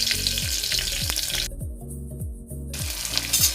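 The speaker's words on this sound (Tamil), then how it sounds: "நல்லா வதங்கட்டும்" Small shallots sauté in oil for mutton chukka, a steady sizzle with a few soft stirring sounds under it.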